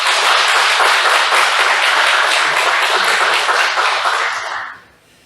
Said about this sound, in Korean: 격려의 박수 한번 보내주세요.